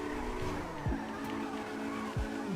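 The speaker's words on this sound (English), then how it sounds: "Why is this drifting so good?" A Rune Cheburek, a Lada-style car in GTA 5 built up as a racer, drifts with a steady engine drone and two brief tire squeals over the game audio.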